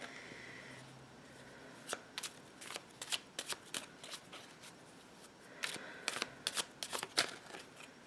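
A deck of reading cards is shuffled by hand, producing a series of crisp riffling bursts and taps, soft and close, with brief pauses between shuffles.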